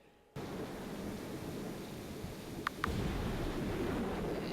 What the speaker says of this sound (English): it sounds like quite a heavy storm